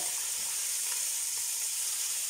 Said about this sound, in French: Alors, vous voyez, la viande revient bien.